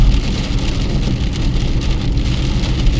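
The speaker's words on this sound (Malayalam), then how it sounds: "ഇവിടെ അത്യാവശ്യം നല്ല മഴയുണ്ടല്ലോ" Heavy rain drums steadily on a car while driving in Dubai, a loud, dense, unbroken wash of drops on the roof and windshield with engine rumble underneath.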